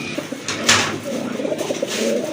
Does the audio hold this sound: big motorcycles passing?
no